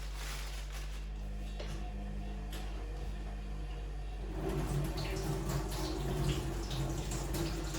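Tap water runs steadily while mushrooms are rinsed under it in a kitchen, growing louder and more splashy partway through as the stream hits the mushrooms, with a constant low hum underneath.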